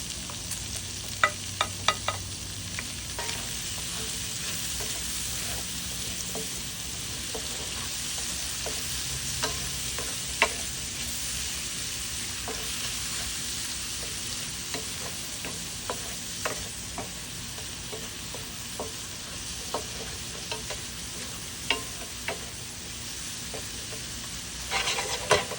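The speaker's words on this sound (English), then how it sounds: "we're gonna go ahead and add some more onions to this, scallion, and of course some more of that good old garlic" Onions, scallion and garlic frying in rendered fat, a steady hiss of sizzling with repeated sharp clicks and scrapes from stirring, close and continuous with no voices.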